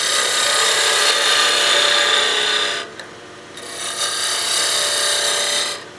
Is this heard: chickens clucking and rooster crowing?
no